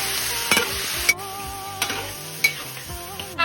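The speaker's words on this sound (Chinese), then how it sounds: "起锅烧油，葱姜八角干辣椒搞里头" Scallion, ginger, star anise and dried chili frying in hot oil in a pot give off a loud, close sizzle, broken by several sharp scraping stir strokes at uneven intervals.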